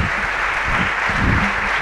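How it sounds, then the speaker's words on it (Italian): Hometown audience in Vicenza applauding Federico Faggin as he takes the stage, a continuous, full burst of clapping from a large crowd, close and steady. "l'applauso della sua Vicenza è più che meritato"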